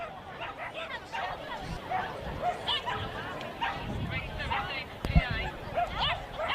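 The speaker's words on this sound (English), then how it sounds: "Couple of barks just to make sure that the handler knows where the dog is" Sharp yips and barks from a small dog running an agility course at an international agility festival, repeated over a busy crowd murmur and a commentator's voice.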